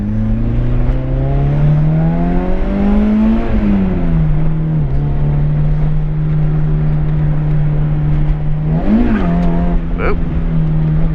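Toyota AE86 with a 16-valve 4AG engine and 1.5-way LSD driving on a race track, its engine holding a loud steady tone that climbs, dips on a shift, then swells again in a brief rev, with talk underneath.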